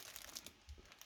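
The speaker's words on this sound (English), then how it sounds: "here we have some plastic bags" Plastic parts bags from a Tamiya TRF 201 XMW 1/10 buggy kit box crinkle softly and irregularly up close, quiet with brief sharp rustles.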